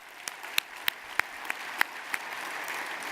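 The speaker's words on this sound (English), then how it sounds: "I actually wanted them to clap for you" Sparse, faint audience clapping at a Kenyan diaspora conference in the UK, a handful of distinct claps spaced roughly evenly over a low, quiet room hum.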